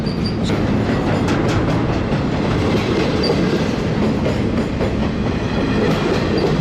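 A short train pulls out and rumbles steadily past at Portage, with a continuous low roar and rhythmic clatter of wheels on rails, loud and close throughout.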